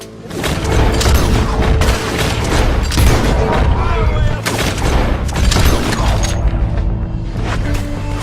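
Rapid rifle gunfire and booming shots in a Red Dead Redemption 2 shootout, a loud dense barrage of overlapping blasts with game voices talking over it.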